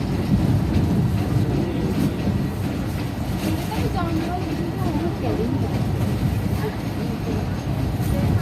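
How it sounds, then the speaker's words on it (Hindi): The Shah Hussain Express rolls into Faisalabad railway station, a steady low rumble of wheels and carriage noise filling the scene, with people's voices faintly mixed in. "हमारी ट्रेन पहुंच रही है फैसलाबाद रेलवे स्टेशन पर"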